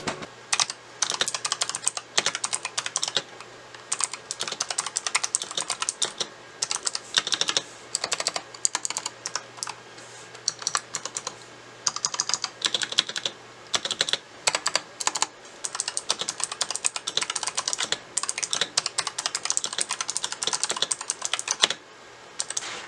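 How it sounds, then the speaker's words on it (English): Rapid, clicky mechanical keyboard typing on a Razer Huntsman Elite with Razer purple switches, close and steady for the whole stretch, with only brief pauses between bursts of keystrokes. "these are the Razer purple switches, so I'm going to do a sound test real quick"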